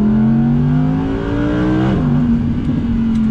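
A 2019 Audi R8 V10 Performance engine revs hard and loud, its pitch climbing steadily through a gear, dropping at a quick shift and then pulling up again.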